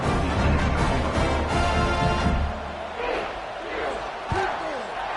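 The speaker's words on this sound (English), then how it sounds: "this crowd is buzzing after that last score" A college football stadium crowd roars after a touchdown and extra point, loud and dense at first, then thinning to a murmur with a few sharp thuds and a commentator talking over it.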